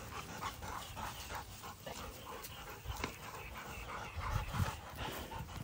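Several dogs panting nearby, a fast steady rhythm of breathy huffs, fairly faint, with a slight whimper, and no talk over it.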